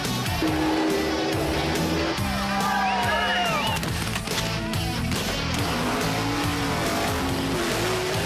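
Drag race cars at a dragway roar continuously and loudly, engines rising and falling in pitch as they pass, under a dense mix of crowd noise and announcer-style talk.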